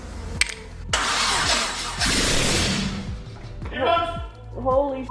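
A car build fitted with a Honda K-Series engine cranks and fires up, its loud rough roar swelling and settling into a throaty idle, with voices talking over it.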